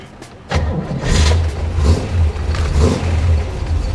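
A 1967 Chevrolet Corvette with a rebuilt 327 V8 cranks briefly and fires, then settles into a deep, lumpy idle with a couple of blips of revving, heard up close.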